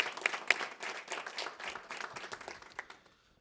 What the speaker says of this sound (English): So let's give our friends at GE a big round of applause here.